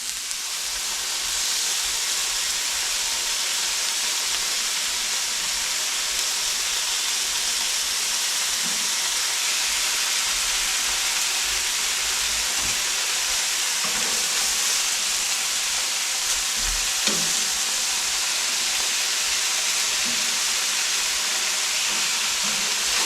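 Bacon sizzles on a warm pan or griddle as burgers cook, a steady close hiss that holds for the whole stretch, with a few faint pops and no voices.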